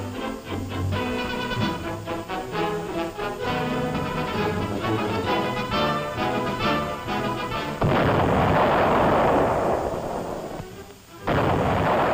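An artillery salvo firing: tonal, music-like sound gives way to a loud, sustained roaring blast that fills the final third, briefly dips, then surges back.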